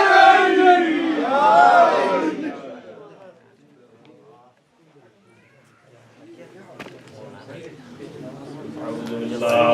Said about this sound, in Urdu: نعرے